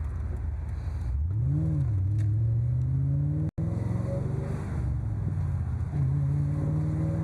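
A 1996 Mustang Cobra convertible on a drive, its engine droning close with a brief rise in pitch early on, then settling into a steady cruise over wind rush.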